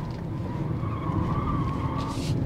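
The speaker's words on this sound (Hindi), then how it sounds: "गाड़ी को मैंने लगा दिया है स्पोर्ट्स मोड में। अब यहाँ पर इसकी स्टेबिलिटी चेक करते हैं" A BMW 2 Series Gran Coupe driven in sport mode along hilly, winding roads: a steady, close engine drone with road and tyre roar and a faint high squeal, no talking.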